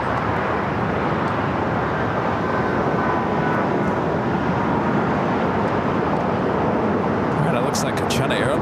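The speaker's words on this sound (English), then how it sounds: "Looks like China Airlines heading to the north side for a takeoff on 24 left" A China Airlines airliner taxiing at LAX toward runway 24 left gives off a loud, steady jet roar that holds constant throughout.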